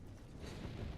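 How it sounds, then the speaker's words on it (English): A fire spell cast in Dragon Age: Origins gives off a low, continuous roaring whoosh, steady and close, like flames surging outward for about a second. "More fire."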